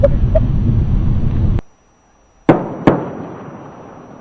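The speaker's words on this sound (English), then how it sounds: "Twin sonic booms heralding Atlantis' arrival at the Florida spaceport." Space Shuttle Atlantis arrives at the Florida spaceport with twin sonic booms: two sharp, loud cracks about half a second apart that come after windy rumble and a short hush, each followed by a decaying rumble.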